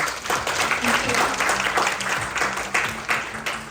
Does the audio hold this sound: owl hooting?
no